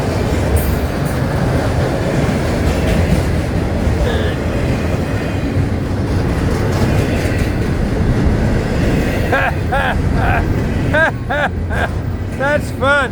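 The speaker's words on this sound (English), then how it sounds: "Alright, here comes the intermodal." An FECR intermodal freight train passes close by with a loud, continuous rumble and wheel noise, rhythmic clickety-clack over rail joints and squealing, under a voice talking.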